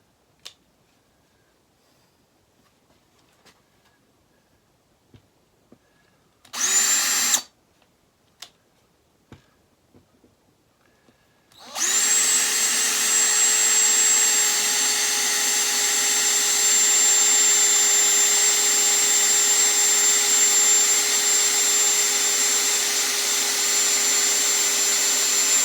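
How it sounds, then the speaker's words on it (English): A power drill drives wood screws into a tough maple guitar neck, with a short whirring burst early on, then a long, steady, loud motor whine that holds constant pitch to the end. "is tough wood for putting wood screws through. So let's get this guy going."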